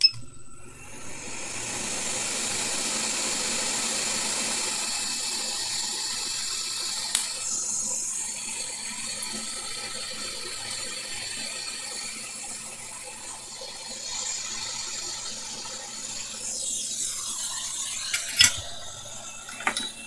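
Hot air rework station blowing on a Nintendo Switch circuit board, a steady soft airy hiss close by, easing slightly in level, with occasional small clicks and taps of tools.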